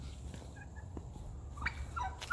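Turkeys gobble in a homestead yard, quick rattling calls heard a few times over a low rumbling background, moderately distant.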